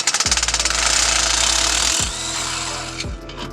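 An air-powered impact tool runs in steady rattling bursts while working on a Lexus IS300 exhaust Y-pipe install, loud and close, pausing briefly twice before restarting.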